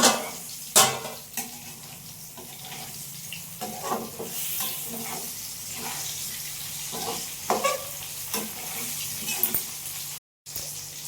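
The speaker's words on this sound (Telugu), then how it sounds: "అంటే కాకరకాయలు బాగా వేగిపోయాయి" Small bitter gourds frying in plenty of oil in a pan, a steady sizzle with scattered clinks and scraping stirs, close and moderately loud, no talking.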